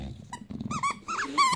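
A bulldog growls and whines close by in short, strained bursts, with a few higher yelps mixed in.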